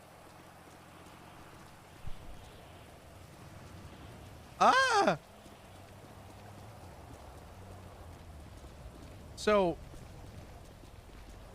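Steady rain falls in the GTA V NoPixel roleplay game, a soft, even hiss throughout with a faint thump early on, while a voice cuts in briefly twice.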